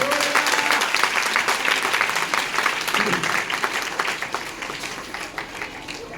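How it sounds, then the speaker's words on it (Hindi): A crowd at a worship gathering claps loudly and densely, with a few voices calling out under the applause before it begins to thin toward the end. "एक बार प्रभु के लिए तो तालियां बजाइए"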